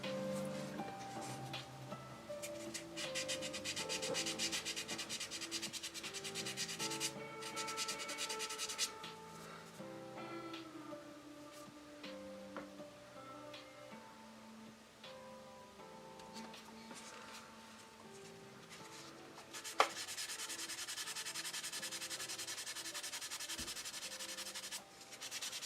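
Sanding putty on a painting commission during a late work session, a steady, continuous dry rubbing and scraping that runs the whole stretch with brief pauses and a single sharp knock near the end.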